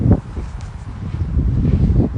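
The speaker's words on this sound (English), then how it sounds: "but now the wind is loud" Wind buffets the microphone in a steady low roar, gusting slightly, with faint rustling and no talk.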